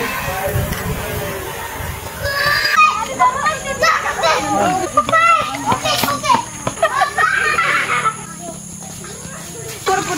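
A crowd of children plays and shouts at a farm, their excited voices overlapping loudly and continuously, with some higher squeals mixed in.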